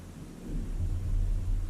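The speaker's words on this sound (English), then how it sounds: "Thunder, hadn't heard thunder in a while." Deep rumbling thunder swells in after a quieter start, a long low roll that keeps building and rumbling to the end.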